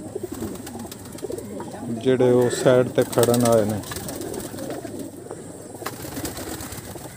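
Breeder pigeons coo softly in a loft, a low murmuring burst in the middle, while someone talks over them and other voices stay in the background.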